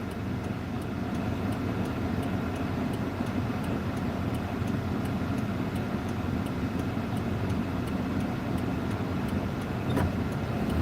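Cars pass steadily in traffic, a continuous low road rumble at moderate distance with faint regular ticking, no voices.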